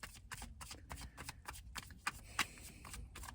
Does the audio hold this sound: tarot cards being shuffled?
yes